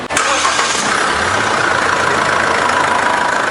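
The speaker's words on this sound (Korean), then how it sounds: "시동을 건 다음에 찍어보고 엔진을 돌려본 다음에" A large SsangYong Rexton Sports diesel engine cranks and catches, then settles into a steady, loud, rumbling idle up close with no talking.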